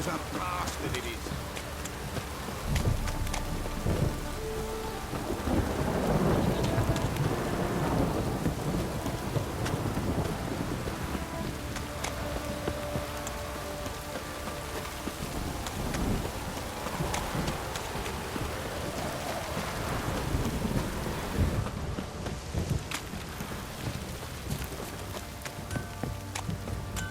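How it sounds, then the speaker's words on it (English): Heavy downpour in a thunderstorm in The Witcher 3 game world, a dense constant hiss of rain with low rolling thunder swelling at intervals, a voice talking over it and hoof clip-clops mixed in. "This downpour's a bastard, it is."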